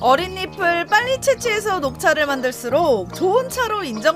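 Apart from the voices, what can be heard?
No everyday noises stand out.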